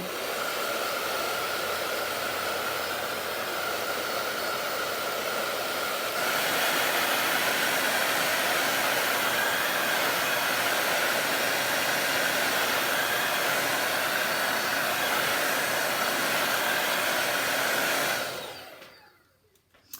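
A hair dryer blows steadily for about eighteen seconds, drying taped hexagon quilt pieces, getting louder partway through before being switched off and fading out, with no talking.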